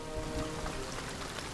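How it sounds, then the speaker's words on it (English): Rain falling outdoors in a mountain valley before a heavy downpour, a steady hiss of drops on surfaces that stays even and fairly quiet throughout, with no voices. "We've got to find shelter before the heavy rain comes."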